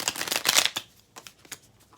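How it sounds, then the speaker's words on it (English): Tarot cards riffled and shuffled close up in a quick, papery burst, then a few softer taps and flicks as the deck settles. "one more good shuffle"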